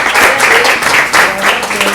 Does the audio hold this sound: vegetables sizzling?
no